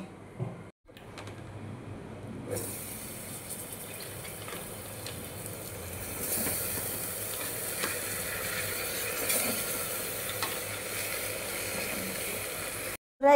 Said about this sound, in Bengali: এখন আমি মাংসগুলোকে ঢেলে দেব।